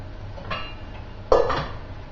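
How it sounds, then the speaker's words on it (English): Eggs dropped into a pot with a lid set on top during fish pie cooking in a home kitchen: two faint clinks about a second apart, the second a sharper metallic clatter, over a low background hum with no talk. "a couple of eggs to go into, just plonk them in there, lid on top"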